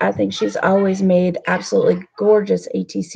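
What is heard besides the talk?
No distinct noise like a dog, phone or traffic.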